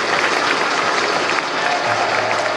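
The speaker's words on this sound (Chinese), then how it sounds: "大家掌声鼓励一下" Steady, dense applause from a seated audience at a Taipei Rotary club's 20th anniversary celebration, honouring the club's top district award; it continues evenly throughout, close and full, with no voices standing out.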